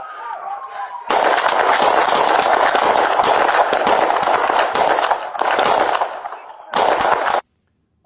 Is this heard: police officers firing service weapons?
yes